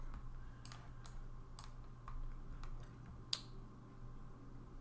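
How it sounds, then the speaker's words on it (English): Typing on a computer keyboard: sparse, soft key clicks at an irregular pace over a steady low hum, with one sharper tap near the end. "I don't know if EB's typing up a storm over there."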